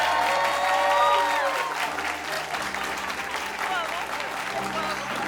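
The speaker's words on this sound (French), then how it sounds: "Allez, on applaudit Laurie." An audience at a live comedy show applauds, a dense wash of clapping that swells and then thins slightly, heard under talking and some whistle-like voices.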